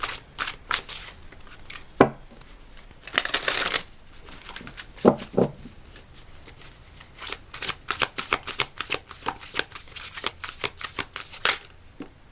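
A deck of tarot cards shuffled close up, with repeated riffling bursts and quick crisp card snaps in an uneven rhythm, continuing steadily throughout.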